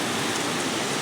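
Rain falls at midnight under dark clouds in Gandhinagar, a loud, even hiss of downpour throughout the short stretch.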